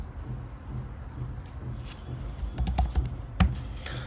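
Rapid clicking of a computer keyboard while code is typed, heard close and alone with no talking; keystrokes run steadily and cluster into denser bursts toward the end.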